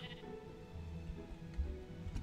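A sheep in modded Minecraft bleats in a few short, low, wavering calls under a busy, murky game mix with faint background sound.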